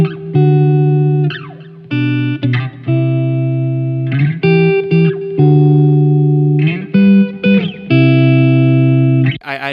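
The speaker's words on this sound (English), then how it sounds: "So this is the introduction of the track, which is the guitar." An electric guitar plays a sustained, distorted intro through a Fender Mustang amp as a dry USB signal, loud and steady with chord changes and brief breaks between phrases.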